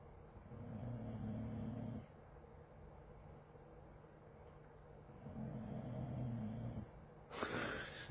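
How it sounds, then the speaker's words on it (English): A sleeping puppy snores in slow, rhythmic breaths close to the microphone, two long snoring spells with a quieter pause between them, followed by a brief louder rustle or snort at the end. "And just listen to the puppy snore."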